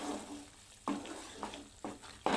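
Masala with salt is stir-fried in a pan for a fish bhaji, making a soft, steady sizzle with several distinct scraping strokes of the spatula at regular intervals.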